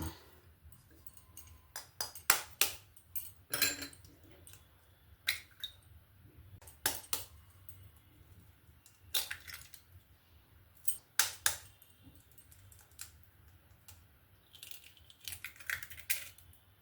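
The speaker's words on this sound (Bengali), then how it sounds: "এবার আমি ডিমগুলোকে এখানে ফাটিয়ে ফাটিয়ে নিয়ে নেব" Three eggs are tapped and cracked into a bowl, making a scatter of sharp, quiet clicks and taps at irregular intervals, close by with no speech.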